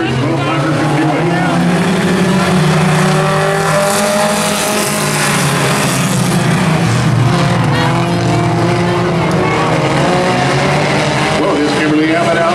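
Mini stock race cars roar around a short oval track at a feature race, engines loud and continuous with a steady pack drone under a track announcer's talk.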